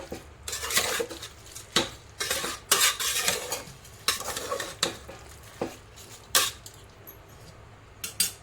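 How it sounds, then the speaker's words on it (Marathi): Onions, with fresh coriander added, stirred in a pressure cooker pot for chicken khichdi: a close spoon scrapes and clatters against metal in repeated uneven bursts, with no talking. "आता आपण कोथिंबीर टाकूया परत एकदा कांदा हलवून घ्यायचं आहे"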